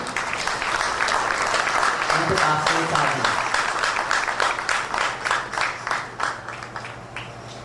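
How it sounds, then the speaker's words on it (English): A round of applause from the audience at a Ganesh Utsav evening celebration: sustained crowd clapping with a low steady hum beneath, a voice speaking briefly over it, the clapping thinning into separate claps near the end. "please give a round of applause to Uncle Budram"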